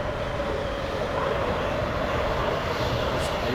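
The jet engine of a Eurofighter Typhoon in Microsoft Flight Simulator roars steadily, a constant broadband whoosh with a sustained tone that holds at even loudness throughout.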